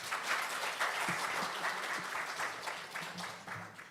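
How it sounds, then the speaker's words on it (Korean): Warm, continuous audience applause at a medical symposium as a professor is welcomed to the stage, moderately loud and even, holding steady without a break. "큰 박수 부탁드립니다"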